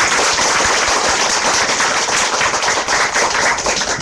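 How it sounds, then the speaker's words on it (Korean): Sustained, dense applause from an audience at a Korean political campaign event for candidate Chung Dong-young, loud and continuous clapping with no break from start to end. "우리 정동영 후보님께 박수 한번 더 드리겠습니다"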